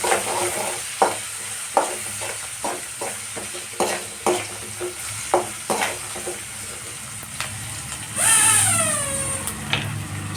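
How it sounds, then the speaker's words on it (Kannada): Onions fry in a pan with curry leaves, a close crackling sizzle punctuated by regular spatula scrapes and knocks, then a passing engine-like whine rises briefly over it before stirring resumes. "ಹಸಿ ವಾಸನೆ ಹೋಗೋವರೆಗೆ ಫ್ರೈ ಮಾಡ್ಕೊಳ್ಳೋಣ ಉಳ್ಳಾಗಡ್ಡಿನ"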